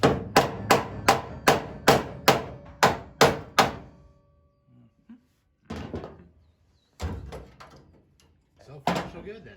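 A run of about ten sharp, evenly spaced metallic body-hammer blows on the roof panel of a rusty first-generation 1967 Firebird rings out, then a pause followed by a few scattered, heavier knocks.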